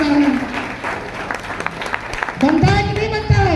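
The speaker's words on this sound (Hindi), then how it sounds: "थोड़ा ताली नहीं बनता है?" Applause from a seminar audience in Mirzapur, a broad wash of clapping hands rising over and around someone speaking through a microphone, swelling louder toward the end.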